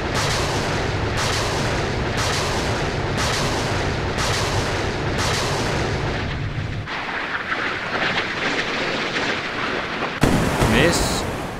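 Phalanx CIWS close-in weapon system firing at incoming missiles in the naval video game Sea Power, a loud continuous roaring burst that runs for several seconds, thins out, then ends with a sharp final blast.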